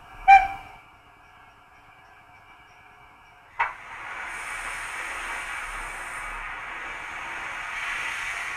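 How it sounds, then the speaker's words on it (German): A short steam whistle from a PIKO TT-scale digital model of a BR 55 steam locomotive sounds as a brief toot near the start, followed later by a sharp onset into a sustained hissing tone, loud and close. "F3, Dampfpfeife,"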